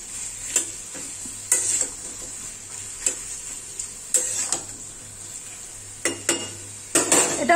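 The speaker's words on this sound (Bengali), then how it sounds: "এটাও 3-4 মিনিট ধরে ঝিঙেটাকেও একটুখানি ভেজে নিচ্ছি" Ridge gourd pieces frying in a pan, stirred with a utensil: a steady soft sizzle with sharp scraping clinks of the spatula against the pan at irregular intervals, close and fairly loud, no talking.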